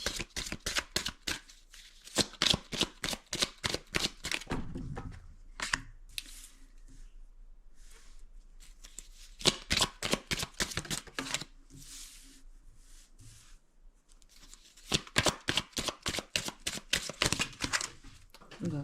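A deck of cards for a reading is riffled and shuffled in three rapid, crisp bursts of fluttering snaps, close to the microphone, with quieter card handling between bursts.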